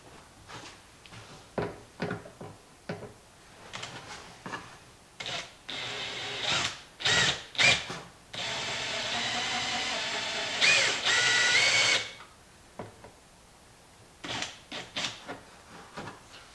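A power drill bores into a plastic compost tumbler lid from a Good Ideas Compost Wizard Jr, with several short whirring bursts followed by longer sustained runs and brief pauses between them.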